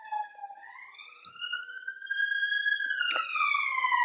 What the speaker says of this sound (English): We have a siren passing by.